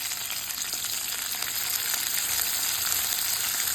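Onions sautéing in a pan for ridge gourd chutney, with curry leaves already in, give a steady, close, broadband sizzle with a faint high whine throughout and no talking.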